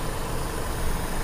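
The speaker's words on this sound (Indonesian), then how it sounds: "Oke, saya nyalakan dulu mesinnya." A Toyota Kijang Super engine with a carburetor idling, a steady, fairly quiet, even rumble with a hiss and no voices.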